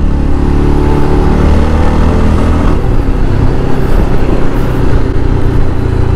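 A Jawa Yezdi Adventure motorcycle rides along loudly and close, its engine droning with wind rush and rising revs through the ride.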